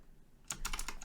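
Code is typed on a computer keyboard, a quick close burst of several key clicks after a brief quiet moment.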